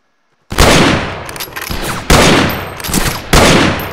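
Rifle shots in a Wild West video game crack out loud and close, three sharp reports each trailing off in a long rolling echo.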